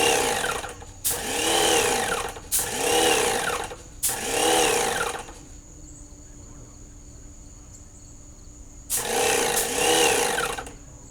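A paint sprayer with a nozzle clogged by dried paint runs in loud, buzzing bursts of about a second each, four in quick succession, then a quiet hum for a few seconds before another burst starts up.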